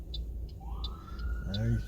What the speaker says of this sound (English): Popped his siren back on.